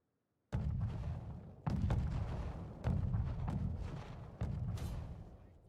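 Four heavy mortar blasts boom one after another in a video game match, each a loud, deep thud that rolls on into a rumbling tail, spaced about a second apart after a moment of silence.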